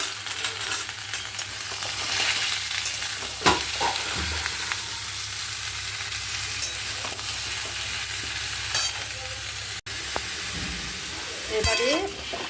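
Vegetables fry in hot oil with dried chilli, bay leaf, cumin and a pinch of asafoetida, giving a steady close sizzle with occasional stirring scrapes and quiet speech.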